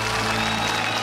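Studio audience applause on a Russian TV game show, a short, full burst of clapping at a constant, loud level, with a steady low hum underneath.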